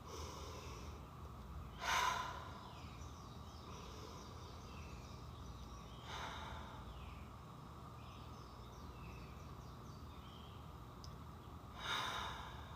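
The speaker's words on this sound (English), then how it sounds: "And now breathe in 3 deep breaths." Three slow, deep breaths taken during a guided relaxation, each a soft airy inhale spaced several seconds apart in an otherwise quiet room.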